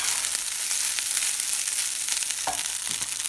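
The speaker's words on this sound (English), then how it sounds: "So I have my fried egg in there." A fried egg sizzling in a cast iron skillet, a steady close hiss of frying with faint crackles and a brief scrape of a utensil partway through.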